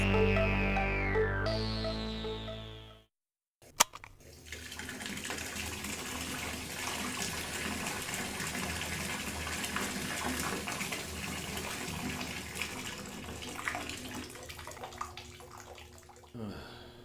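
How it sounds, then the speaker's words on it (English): Warm water runs steadily from a tap into a bathtub in the early morning, a continuous hissing gush that follows a brief musical sting and a short silence. "Been running warm water over her body all night."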